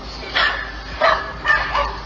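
A pit bull gives a few sharp, close barks or yips in three or four separate bursts, each rising over a steady background hum.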